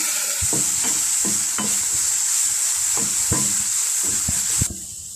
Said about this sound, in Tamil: இப்படி நல்லா டீப் ஃப்ரை பண்ணோம்னா தான் நல்லாயிருக்கும்